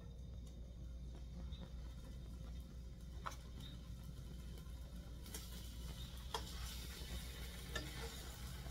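Food frying in a pan for a low-carb dinner, a faint steady sizzle with light clicks and stirring, no one talking.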